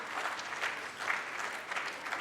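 Steady audience applause at a Brahmo conference session in Hyderabad, a sustained patter of many hands clapping in a hall, moderately loud with no voices over it.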